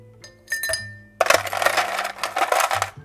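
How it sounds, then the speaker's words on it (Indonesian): Ice cubes dropped into a glass for an iced caramel macchiato, first a few separate clinks, then a loud clattering pour of many cubes rattling against the glass for nearly two seconds, close by. "aku tambahkan dengan es batu"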